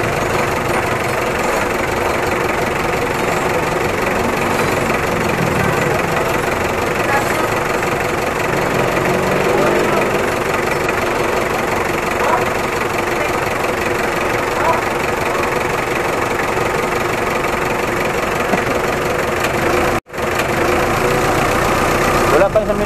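A Mitsubishi Adventure engine idles untouched at a steady, loud drone with a faint knocking rattle throughout, briefly cutting out near the end, while someone talks over it.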